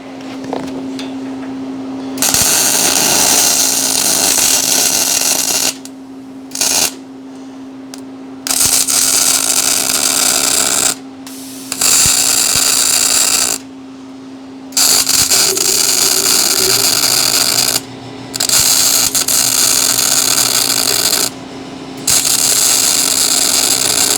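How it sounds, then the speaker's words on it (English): Welding a strapping tie-down onto a trailer near a cadmium-coated tow hook produces long, loud bursts of harsh crackling buzz, switching on and off repeatedly, over a steady low hum with no speech. "for safety, we're just going to weld"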